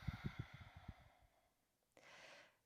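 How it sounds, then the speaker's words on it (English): A slow, soft exhaled breath during a yoga session, near and quiet, rising briefly and trailing off after a short pause. "Exhale."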